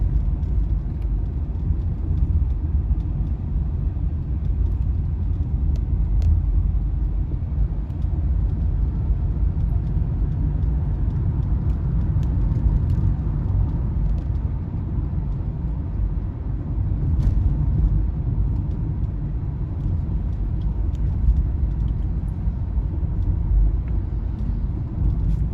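Tata Nexon EV electric car driving steadily on a road, a low continuous rumble of tyres and cabin noise heard from inside, even and unbroken throughout with no voices.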